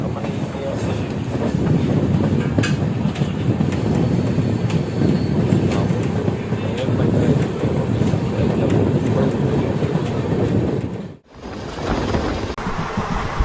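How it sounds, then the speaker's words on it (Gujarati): The Saurashtra Mail express train runs at about 110 km/h, making a loud, continuous rumble with rattling and wind buffeting that drops sharply near the end before resuming. "આ જે ટ્રેન છે તે કહેવાય છે પ્રતિ કલાક એકસો દસની સ્પીડે ચાલે છે"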